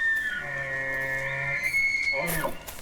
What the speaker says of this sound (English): the last two might have been pig noises